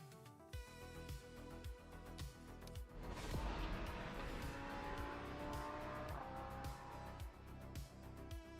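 Ford Mustang race car engine in Project Motor Racing at Sebring, revving up and roaring through gear changes, loud and close with a sustained high drone and brief tire squeal.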